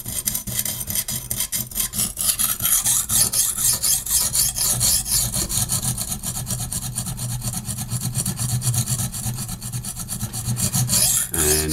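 A knife edge rasping steadily against the stone of a HORL 2 rolling sharpener, a continuous close gritty scraping with rhythmic strokes and no talk.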